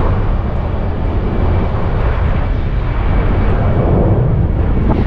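A fixed-wing airplane roars steadily near Zurich Kloten airport, a loud, continuous broadband engine rumble with some wind noise on the microphone and no speech.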